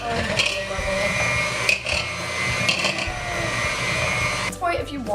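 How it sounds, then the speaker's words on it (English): An electric mixer beats sugar for madeleine batter until frothy, a continuous whirring drone with slight shifts in pitch and a brief clatter near the end. "you're going to beat this whole thing until it's like foamy or like frothy"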